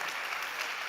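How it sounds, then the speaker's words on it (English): A startup pitch on a conference stage ends in audience applause: dense, steady clapping from a large crowd that fills the whole moment at an even loudness, with no speech over it. "Come on, big applause for him."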